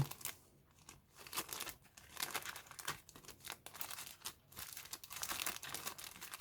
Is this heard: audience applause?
no